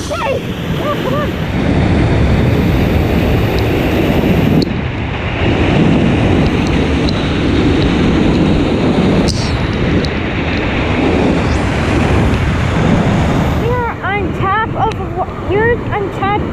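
Waterfall at Swallow Falls, a loud, continuous broadband roar of rushing water heard up close with wind buffeting the microphone and brief voices and birdsong near the end.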